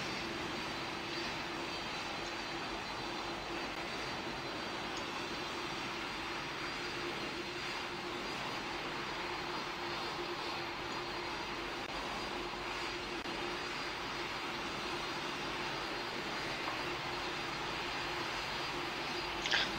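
Engines of an An-225 aircraft taxiing in the Roblox flight game PTFS give a steady, even jet-like drone with a constant whine, unbroken and moderately loud, with no voices.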